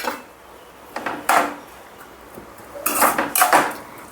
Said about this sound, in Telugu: ఆనియన్స్ వేసుకుని ఆనియన్స్ కూడా బాగా ఫ్రై చేసుకోవాలి.